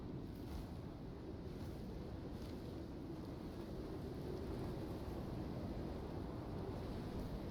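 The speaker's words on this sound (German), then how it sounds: "Schwere Winde kommen jetzt auch noch" Heavy storm wind in the survival video game Icarus roars as a steady, unbroken broadband rush, loud and even throughout without gusting pauses or any speech.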